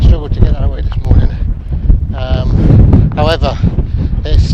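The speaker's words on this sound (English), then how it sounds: "However, it's still incredibly windy" Strong wind buffets the microphone at a saturated, soggy wild campsite, roaring and gusting in uneven bursts. A person talks over the rumble.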